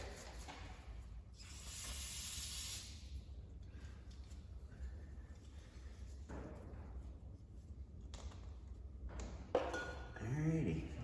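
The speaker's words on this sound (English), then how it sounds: "Brake cleaner." Brake cleaner hisses from an aerosol can in one steady burst of about a second and a half during an IH 806 tractor build, followed by quieter workshop clatter and a few faint clinks.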